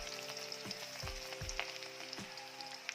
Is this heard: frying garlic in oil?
yes